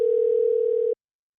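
A telephone tone sounds while a call is being placed: one steady electronic tone lasting about a second, clear and alone, then it cuts off into silence.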